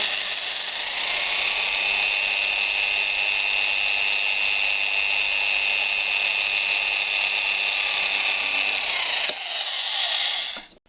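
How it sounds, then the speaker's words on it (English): A loud electric drill whines at a steady pitch for several seconds while drilling a toothbrush, then shifts pitch briefly before spinning down and stopping. "get the drill, make sure that the tip's going to cut where we want it"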